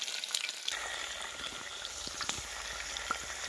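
Dried pieces drop into hot oil and fry, starting a faint, steady sizzle after a brief quiet moment, with scattered small crackles and pops close by.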